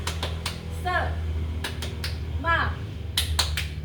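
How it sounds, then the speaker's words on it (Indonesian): Schoolchildren in a classroom do rhythmic spirit clapping (tepuk semangat), with short bursts of sharp claps in patterned groups alongside children's and an adult's voices. "kita tepuk semangat dulu ya"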